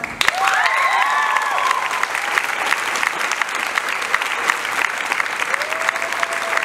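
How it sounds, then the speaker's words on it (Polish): A crowd applauds during the award ceremony closing the 46th FAMA festival in Poland, a dense, steady clapping that fills the hall from start to finish, with faint voices in the background. "Oklaski."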